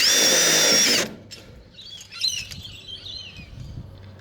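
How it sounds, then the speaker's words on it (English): A power drill drives a screw into gutter guard trim in one loud, high whining burst that cuts off abruptly, followed by quiet outdoor ambience with birds chirping. "and then simply put in another screw"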